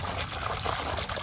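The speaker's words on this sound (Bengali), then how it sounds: "এবারে ভালো করে এইভাবে একটু ঘুলতে নেব জলটা।" Water being swirled by hand in a basin holding lemon and shampoo gives a steady close sloshing and trickling wash of liquid with no voices.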